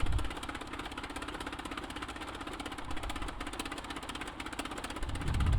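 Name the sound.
JN-4 Jenny biplane engine running rough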